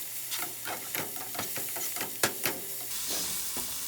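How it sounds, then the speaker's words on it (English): Spinach with garlic and salt sauteing in a pan for spicy palak bhaaji, with a steady sizzle and hiss broken by several scraping stirs and clinks of a utensil against the pan, close up and alone. "I will saute it."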